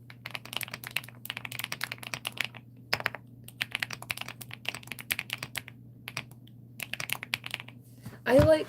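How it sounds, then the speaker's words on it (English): Rapid, uneven clatter of keys on a mechanical keyboard, typed in bursts with short pauses, close and crisp over a low steady hum. "as soon as I started typing on it, I was like, I can't believe this"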